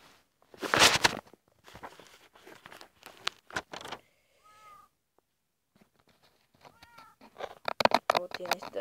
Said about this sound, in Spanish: ¡Mire, mis gatos!